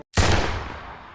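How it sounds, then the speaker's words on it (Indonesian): A soldier in a World War II film fires a single gunshot at a hostage, a sudden sharp crack after brief silence that rolls into a fading echoing tail. "ia langsung menembak kepala sandera tersebut"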